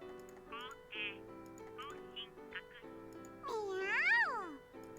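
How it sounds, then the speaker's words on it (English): A cat meows near the end in the visual novel game You and Me and Her, a faint rising-and-falling cry that follows soft, steady musical tones and short electronic chirps. "At my feet, the cat meows proudly."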